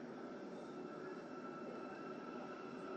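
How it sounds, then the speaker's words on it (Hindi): A metro train rolls forward in a driving simulator, giving a steady, even rumble of wheels and motor with a faint high whine, continuous and unbroken throughout, with no voice over it. "इस ड्राइविंग हैंडल को, तो मेट्रो आगे जा रही है, आगे बढ़ती जा रही है"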